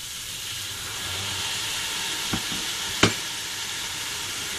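Fish sauce hitting sizzling pancit canton noodles in a hot pan: a steady close hiss and sizzle, with two sharp clicks or knocks partway through.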